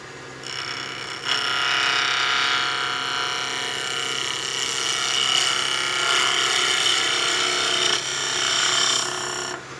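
Skew chisel making a slicing cut on wood spinning on a lathe, a steady close hiss and rasp that runs nearly unbroken, rising and falling slightly as the tool moves.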